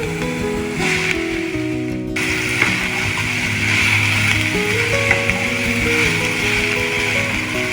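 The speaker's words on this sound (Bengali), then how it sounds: "আলুগুলো তো একটু ভাজা ভাজা হবে" Potatoes fry in a little oil with curry leaves and chopped onion for a spicy Mysore dosa filling, giving a steady, close sizzle throughout with faint scraping and stirring.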